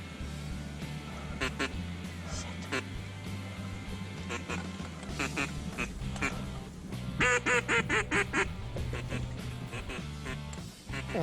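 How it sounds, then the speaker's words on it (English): A mallard duck call is blown by a champion caller in a close-range sequence of loud, raspy quacks, first spaced out, then a quick rhythmic run of rapid notes near the end. "just about any duck, puddle duck, will respond to a mallard call."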